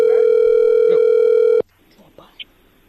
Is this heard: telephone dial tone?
yes